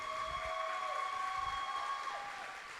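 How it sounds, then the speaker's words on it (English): Graduation audience at a Christian school gives the seniors a round of applause: continuous, fairly distant clapping that holds steady, then tapers slightly. "Guys, that round of applause is for you."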